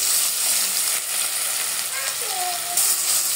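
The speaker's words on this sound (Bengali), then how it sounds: "আর আলুটা একটু ভেজে নিই।" Potatoes frying in hot oil with whole spices, panch phoron and two chillies in a pan, giving a steady close sizzle with faint stirring rattles throughout.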